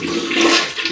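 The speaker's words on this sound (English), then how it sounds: "flush the toilet" A household toilet flushes nearby, a loud continuous rush of water filling the whole moment with no voices.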